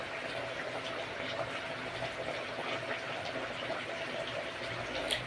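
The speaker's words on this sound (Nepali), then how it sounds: "तेल उम्लेको आवाज हल्का ग्रेभीको आवाज पनि आइरहेको होला" Chicken gravy cooks covered in boiling oil without tomatoes, giving a steady, soft bubbling and sizzling hiss that continues evenly throughout at low volume.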